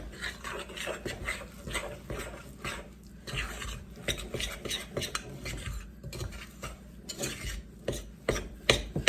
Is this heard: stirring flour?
yes